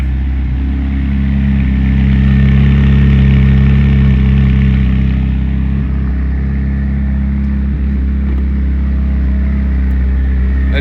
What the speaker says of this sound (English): Just listen to it.